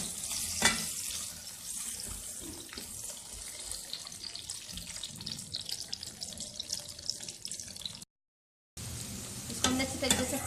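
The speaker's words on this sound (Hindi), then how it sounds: "इसको फ्राई कर लेंगे।" Yogurt and oil fry together in a pan for keema bhindi, with a steady wet hiss and bubbling crackle under intermittent stirring scrapes, close and continuous, briefly cutting out near the end.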